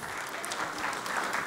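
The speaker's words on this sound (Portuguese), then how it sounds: "Vamos aplaudir o Senhor, irmão?" Church congregation clapping together, a brief burst of steady, fairly soft applause from many hands.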